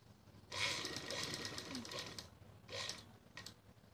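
A sewing machine stitching a simple salwar, two bursts of fast rhythmic mechanical stitching separated by a short pause, close and moderately loud, with a little background noise.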